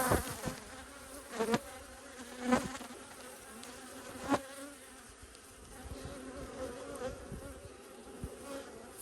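Honey bees buzz around an open hive in early spring, a continuous soft hum with several louder buzzes as individual bees pass near, no talking.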